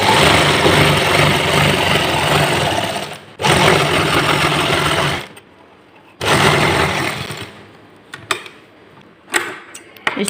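A sewing machine stitches a hidden seam joining salwar main fabric to two lining layers, running loud in two long bursts separated by a pause, then falling to softer clicks and handling noises.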